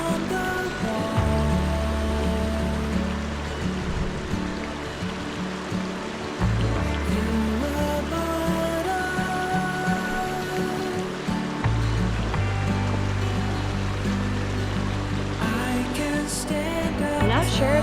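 A creek flows steadily near Independence, California, a continuous rushing wash of water that holds at an even, fairly loud level for the whole stretch, with no one talking.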